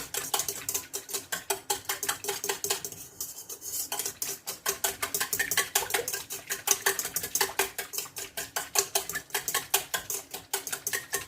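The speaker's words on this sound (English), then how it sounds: "give that a good whisk with the hand whisker, not the stand whisker" A hand whisk beats yeast into liquid in a bowl, making rapid, even metallic clicking against the sides that runs nearly unbroken for about eleven seconds, with a brief lull early on.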